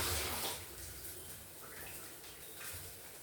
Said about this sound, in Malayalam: ഇത് കഴുകിയെടുക്കാം.